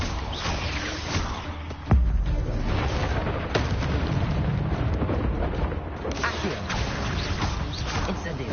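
Spell-casting in Hogwarts Legacy, the fire spell Incendio, comes through as dense, noisy blasts and booming impacts with sharp bursts layered over continuous game noise.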